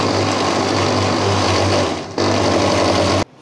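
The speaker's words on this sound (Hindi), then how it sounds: "इसको अच्छी तरीके से ब्लेंड करेंगे।" An electric blender whirs steadily, loud and close, as it purees falsa berries with water and sugar; the motor drone holds constant, dips briefly, then resumes before cutting off abruptly near the end.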